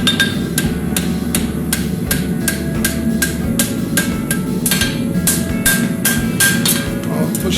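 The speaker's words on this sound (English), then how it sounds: "Lots of hammer blows." Repeated hammer blows ring out on steel bar stock as it is bent, in a steady, evenly spaced series of sharp metallic strikes, loud and close over a low background hum.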